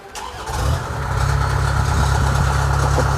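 A Kubota combine harvester's large diesel engine catches and settles into a steady, throbbing idle, loud and close, with no voices.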